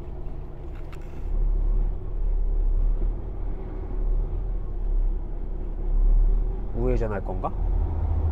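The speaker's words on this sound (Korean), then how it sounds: "머스탱이에요. 오, 사운드 좋네요." A Ford Mustang drives past on a rainy Seattle street with a low, swelling engine rumble that rises and falls as it passes, while a person talks briefly near the end.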